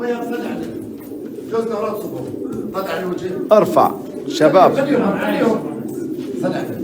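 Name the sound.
pigeons cooing in a pigeon café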